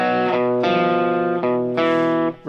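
An electric guitar without distortion strums four ringing power chords one after another, each held briefly, with no other sounds.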